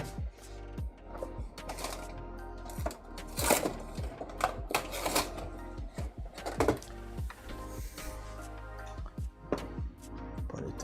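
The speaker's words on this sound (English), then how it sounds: "I am printing with the brim, because again, I don't know how good this bed adhesion stuff works on pure steel" A 3D printer with an E3D Revo HT hotend laying down a brim on a bare steel bed, its motors giving quiet, irregular whirring moves and short ticking bursts that repeat over several seconds.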